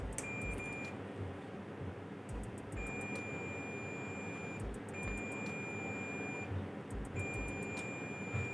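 A multimeter's continuity buzzer beeps in several short clusters of high, pure tones while probes test a shorted MOSFET inside a Yamaha DHR12M powered speaker, faint and close over a quiet background hum.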